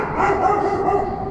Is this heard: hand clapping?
no